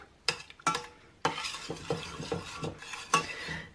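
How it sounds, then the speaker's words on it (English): A spoon working a ricotta dessert mixture in a bowl, several distinct clinks and scrapes followed by softer wet stirring, close and quiet with no talking. "just kind of give everything a mix through together"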